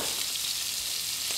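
Chopped onions sweating in a pan give off a steady, soft sizzle that stays faint and even throughout, with no talking over it.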